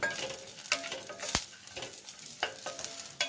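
Dry coconut roasts in a pan, with frequent scraping stirs and light clicks of a spatula. One sharp knock comes against the metal, all near and fairly quiet.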